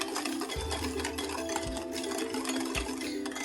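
Chocolate mousse ingredients being mixed together quickly for a microwave mousse: a continuous scraping, stirring noise with soft, regular thumps about once a second, close and fairly quiet.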